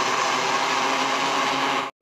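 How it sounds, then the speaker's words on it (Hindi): A mixer grinder blending a shake whirs loudly and steadily at high speed for about two seconds, then cuts off abruptly. "अभी मैंने मिक्सी दौड़नी है आधा आधा"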